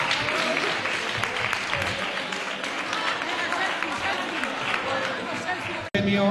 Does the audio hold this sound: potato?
no